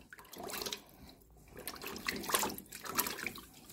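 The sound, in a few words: water and baking soda solution cleaning a water dispenser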